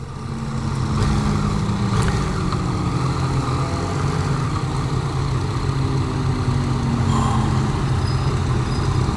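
A 2016 Yamaha FZ-09 motorcycle rides in a tight group, its engine a steady, close drone mixed with the rumble of the surrounding bikes and wind noise, unbroken for the whole stretch with no talking.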